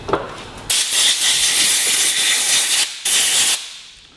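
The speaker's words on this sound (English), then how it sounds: "And cleaning with carburetor cleaner." Carburetor cleaner sprays from an aerosol can onto a brake cylinder being rebuilt for an MG, two loud, close hissing bursts, the second brief, after a short pause.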